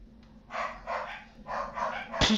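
A dog barks in the survival horror video game Obscure, four loud barks in two pairs with an even rhythm, closed by a short sharp knock.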